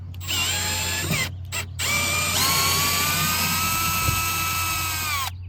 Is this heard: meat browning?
no